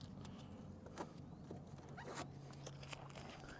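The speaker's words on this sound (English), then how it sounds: "So now I'm gonna go ahead and remove my crappy tape job" Masking tape is peeled off a car headlight in short, quiet ripping strips, a few soft tearing bursts with small taps between them, close by and faint.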